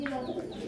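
A female pigeon gives a soft, low cooing call close by, a brief throaty coo rising faintly above quiet background noise.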